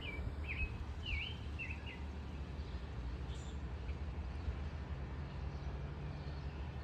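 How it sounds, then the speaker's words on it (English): Small birds chirp in short, scattered calls outdoors in a garden where seed potatoes and peas are being planted, fairly distant and faint over a steady wash of wind and low background noise. "Birds are chirping."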